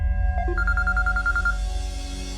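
A phone rings indoors in a Pakistani drama scene, a bright electronic ringtone of rapid repeated tones over a low background hum, clear and fairly close, with no talking.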